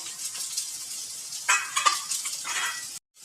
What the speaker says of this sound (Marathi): आपण तव्यावर आता कांदा टाकलेला आहे. आता तो कांदा ना छान असा मस्त तेलात भाजून घ्यायचा आहे.